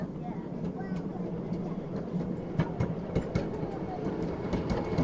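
A 7 1/4 inch gauge miniature railway train rumbles along on its run back toward the station, a steady low clatter with regular rhythmic clicks of wheels over rail joints, close and continuous.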